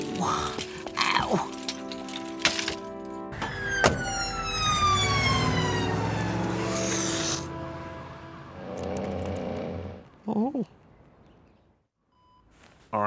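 Wailing ambulance siren in a Mr Bean cartoon street scene, a loud rising and falling tone sweeping for several seconds among cartoon effects and exclamations, then fading out before brief squeaks near the end.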